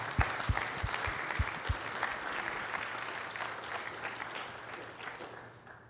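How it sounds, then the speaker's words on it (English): Audience applause at a planning and land use conference, a broad round of clapping from a room of people that begins with a few sharp nearby claps and then fades gradually toward the end. "if we can give a quick round of applause to our conference committee and our presenters"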